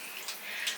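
Bath bomb fizzing in bath water, a steady bright hiss of bubbling and effervescence that holds continuously for the short moment, fairly close with no talk over it.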